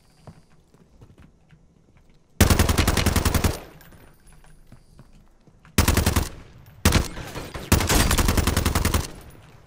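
Bursts of automatic gunfire from the video game Warzone: a long burst first, then a quick run of short, loud, rapid-fire bursts with brief gaps between them and no talk over them.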